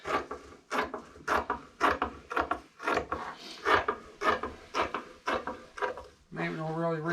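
Hand cutting of an airplane wing root fairing part, a steady series of rasping strokes, roughly a dozen evenly paced, close and moderately loud, ending with a brief voice.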